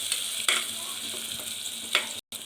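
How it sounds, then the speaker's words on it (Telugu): Tomatoes and yogurt cooking in oil for chicken pulao, a soft steady sizzle with two brief scraping stirs and a short drop to silence near the end. "టమాటో కూడా మంచిగా మగ్గాలి మొత్తగా ఆయిల్లో ఉడకాలి"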